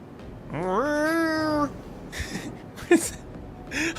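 A human voice imitates the Star Wars Trade Federation emergency klaxon alarm with a loud, rising, wailing tone that sounds like a cat's meow, followed by brief mumbled vocal sounds.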